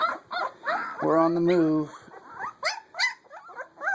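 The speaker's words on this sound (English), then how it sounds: "Puppy howls." Two-week-old Siberian Husky puppies whimper and yip in high, wavering cries, one drawn-out howl-like whine standing out amid short squeaks, while a person talks softly between them.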